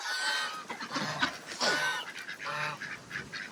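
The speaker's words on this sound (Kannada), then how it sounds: "ಇದು ಗೂಸ್ ತಾನೆ ಇದು" Geese and ducks at a mini zoo near Nandi Hills in Bangalore honk repeatedly in overlapping calls, fairly faint and somewhat distant, with no talk over them.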